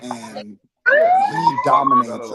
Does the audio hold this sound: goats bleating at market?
no